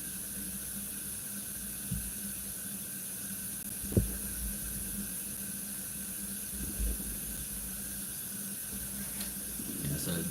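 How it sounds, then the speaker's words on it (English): Shower water runs steadily in the background while a baby is washed, a faint, continuous hiss with a couple of small knocks, heard from another room. "You hear the water going in the background."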